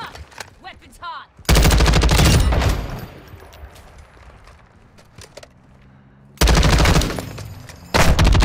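Gunfire in the video game Call of Duty: DMZ comes as loud, dense bursts of rapid automatic shots, one long burst early and two more near the end, separated by a quieter stretch of faint game noise.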